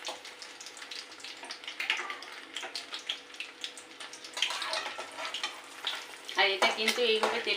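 Egg batter fries in hot oil in a pan, giving a continuous crackling sizzle with bursts of spattering and stirring noises that grow busier toward the end.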